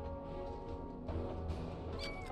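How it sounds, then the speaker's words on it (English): Kittens mew briefly in Final Fantasy VII Rebirth, a few high calls over continuous background game music, fairly faint and without speech. "Look at all the kittens."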